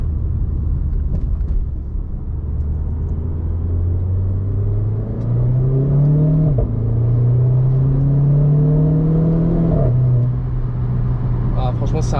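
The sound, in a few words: Renault Clio 4 RS Trophy engine revving, exhaust crackling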